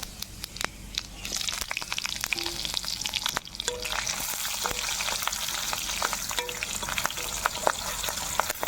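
Whole cumin seeds and slit green chillies hit hot oil in a kadai, giving a loud, steady sizzle peppered with sharp crackles and pops from start to finish, close by and with no voices.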